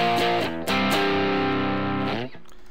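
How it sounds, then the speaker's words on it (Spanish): An electric guitar run through heavy Guitar Rig 5 distortion plays loud, thick saturated chords, a few quick choppy strums then a sustained ringing chord that cuts off abruptly, with no talking. "si no vamos a tener distorsión muy fuerte"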